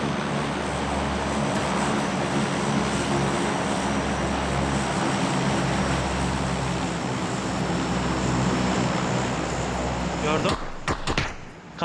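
A propeller airplane flies overhead in the PUBG video game on the Sanhok map. Its loud, steady engine drone fills the clip and breaks off abruptly near the end.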